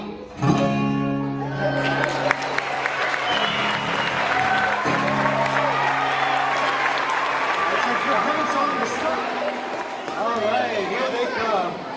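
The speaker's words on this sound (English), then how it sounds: "Let's have another round of applause for the songwriting class." An audience applauds loudly and steadily for a songwriting class, a sustained wash of clapping with crowd chatter mixed in throughout.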